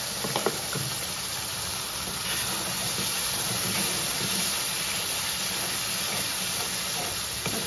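Spice masala frying in hot oil for jackfruit seed curry, a loud, continuous broadband hiss and sizzle that holds steady throughout, with a few faint clicks early on.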